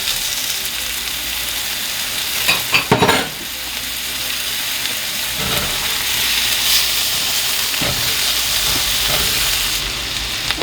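Garlic and butter sizzle loudly in a pan with a steady hiss, broken by a few scraping stirs and a brief burst of louder spattering early on.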